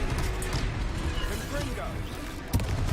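Confringo fire blast spells going off in Hogwarts Legacy, a string of sharp explosive bursts over dense game noise, with one strong hit near the end and a voice talking throughout.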